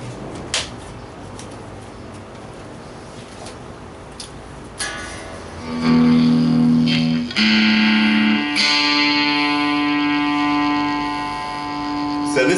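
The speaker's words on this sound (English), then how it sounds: "this is with the distortion at 12 o'clock," Small Orange Micro Dark amplifier and cabinet with an electric guitar, distortion and gain at 12 o'clock: quiet picking at first, then loud sustained distorted chords ringing out and changing several times, alone without talk.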